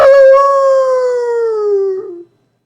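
A single long, loud howl imitating a wild animal, made by a crowd of voices in a theatre audience, holding a steady pitch before dropping and breaking off into silence.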